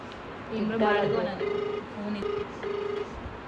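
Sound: phone call ringing on speakerphone

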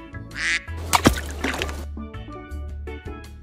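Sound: duck quacking

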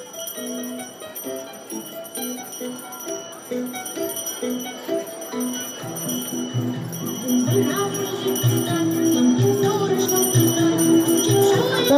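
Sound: ringing of the first school bell

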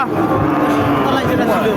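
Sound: cow mooing

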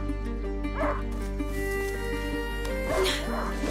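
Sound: hunting dog Leo barking in video game A Plague Tale

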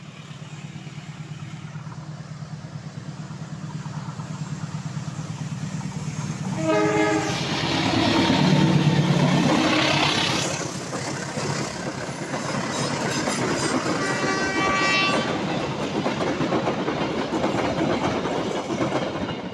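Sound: train passing through tunnel

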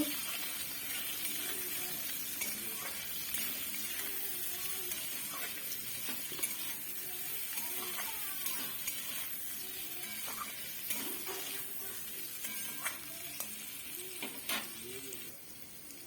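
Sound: stirring fish curry with potatoes and turmeric in a pan

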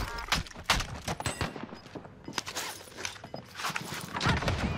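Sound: RPG and gunfire in a video game

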